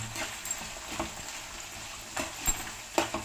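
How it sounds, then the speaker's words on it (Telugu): Bitter gourd pieces fry in oil for pickle, giving a steady soft sizzle with occasional faint scrapes and clinks from stirring, no talking. "వేగుతూ ఉంటాయండి. ఇవి బాగా వేగాలండి,"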